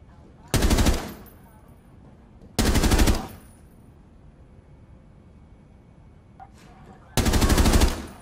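Automatic weapon fire in a shooter video game: three separate loud, rapid bursts, each about half a second long, with quiet background hum between them.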